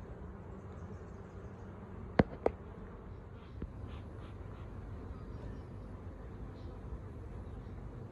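Bees buzz around a beehive being moved onto a wooden stand outdoors in hot, humid weather. It is a faint, steady insect drone under background noise, with a couple of sharp clicks early on.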